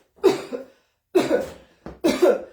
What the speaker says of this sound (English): the way we're generally coughing, which is like this